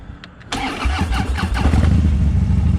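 A stranded motorcycle is started by the start button at the roadside: two faint clicks, then the starter cranks and the engine catches into a loud, close, rumbling idle.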